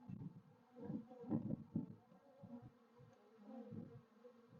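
Honeybees buzz around a hive, a soft, irregular droning hum from several insects that swells and fades, faint and close, with no voices.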